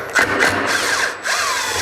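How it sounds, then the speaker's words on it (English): An impact driver fitted with a T25 Torx bit works a fastener on a 2008-15 Polaris RZR clutch, giving short close whirring, rattling bursts with brief pauses. "I use an impact with a T25 Torx bit on it"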